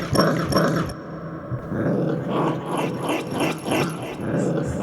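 A growling dog sample plays through a MicroFreak synthesizer, with close, rough snarls repeated in a rhythmic, slightly processed pattern and a short gap early on.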